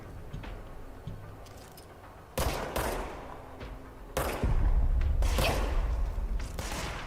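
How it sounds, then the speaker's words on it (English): Enemy gunfire in the game Control: several sharp, loud shots break through a steady rumbling background, each trailing a short decay, with the later bursts sitting over a heavier low roar. "Oh, they're shooting back."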